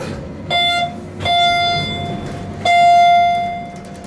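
A Cavinder traction elevator sounds its chime signals: three clear electronic tones ring out one after another, the last held longest, over a low mechanical background hum.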